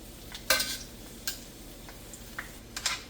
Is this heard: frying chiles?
yes